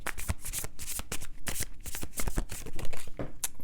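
A deck of tarot cards is shuffled close by in rapid, continuous riffling slaps and rustles, with no talk.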